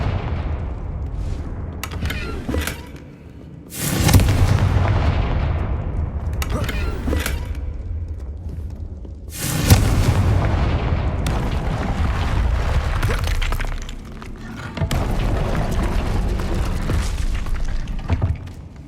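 Blasting-curse explosions from Hogwarts Legacy, a wizarding video game: repeated heavy booms and bursts, two especially loud blasts standing out amid continuous game noise and effects, with spell shouts around them.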